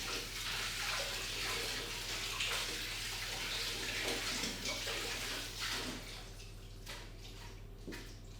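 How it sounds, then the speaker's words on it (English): Spring onions being rinsed under a running kitchen tap, a steady splashing water flow lasting throughout, close and fairly loud, with a low constant hum beneath and no talking. "I'm just going to give the spring onions a wee wash"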